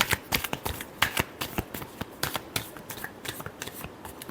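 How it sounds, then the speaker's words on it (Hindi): Tarot cards being shuffled in rapid riffles, a dense run of crisp, papery slaps and flutters repeating about every third of a second, close and clear with no voices. "Last shuffle."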